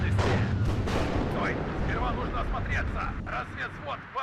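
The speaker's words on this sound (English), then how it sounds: "Artillery is already starting to fire away." Heavy artillery booms and rumbles in the WARNO wargame, dense and loud throughout with low-frequency thuds layered under someone talking.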